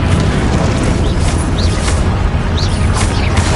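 A Confringo spell explosion in Hogwarts Legacy blasts as a dense, loud, continuous roar of booming impact and rumble, filling the whole moment with no talking heard.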